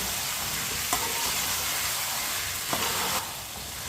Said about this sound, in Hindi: आलूओं को 4-5 मिनट के लिए चम्मच चलाते हुए भून लेंगे